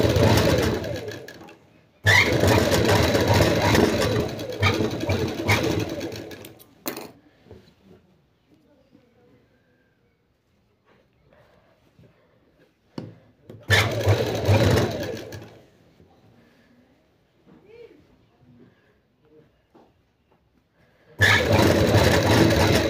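A sewing machine stitching frock fabric for an anarkali frock with a round collar neck runs in two long close, loud whirring bursts, separated by quiet stretches filled with faint handling noises.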